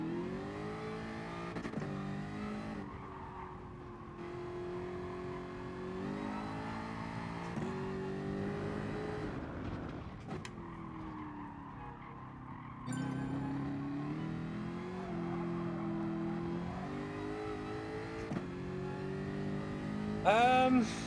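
Jaguar race car engine in Gran Turismo Sport, a continuous mid-volume drone rising and falling through repeated upshifts and throttle lifts over about twenty seconds, with no talking over it.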